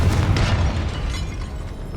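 A Confringo explosive spell blasts in Hogwarts Legacy as a loud, deep boom that opens sharply and rumbles on, gradually fading over two seconds, with no voices.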